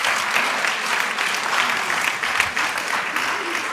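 Sustained audience applause at a roundtable conference in Bologna, a dense, steady wash of many hands clapping at close-to-moderate distance for nearly four seconds with no talk over it.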